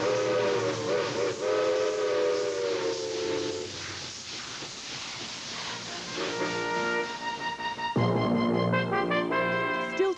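Steam locomotive whistle, part of a Western Canada railway heritage event, blowing in long sustained tones with a hiss of steam and train noise, loud and close, pausing midway before sounding again more strongly.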